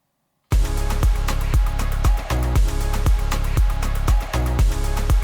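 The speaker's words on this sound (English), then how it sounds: "it's going to repeat the same 4 beats over and over again" A short electronic dance track segment loops over and over, punchy kick drums repeating the same four-beat pattern at a loud, steady tempo.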